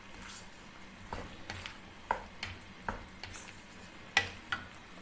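Chicken and cashew nut mixture stirred in a frying pan, with scattered scrapes and ticks over a low, steady sizzle at moderate closeness and no talking.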